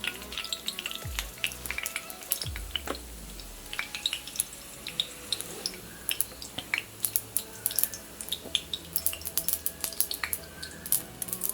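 Sharp pops and crackles scatter irregularly over a low sizzle as mustard seeds splutter in hot oil, growing denser and busier toward the end.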